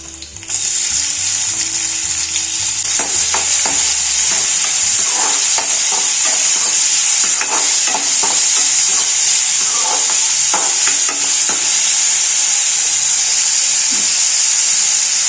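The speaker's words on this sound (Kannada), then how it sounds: "ಈರುಳ್ಳಿ ಚೆನ್ನಾಗಿ ಫ್ರೈ ಆಗಬೇಕು, ಗೋಲ್ಡನ್ ಬ್ರೌನ್ ಕಲರ್ ಬರೋವರೆಗೂ ಚೆನ್ನಾಗಿ ಇದನ್ನ ಫ್ರೈ ಮಾಡ್ಕೊಳ್ಬೇಕಾಗುತ್ತೆ" Finely chopped onions fry in a pan for chicken gravy, giving a loud, continuous close-up sizzle and hiss with occasional scraping from stirring, steady throughout with no voice.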